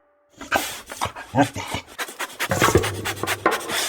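Hunting dogs pant close to the microphone in rapid, uneven bursts of breathy huffs, with rustling and scuffing among rocks.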